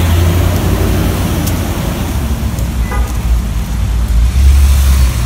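Steady road traffic rumbles past a campus shuttle bus stop, a loud, continuous wash of car noise with no break and no voices.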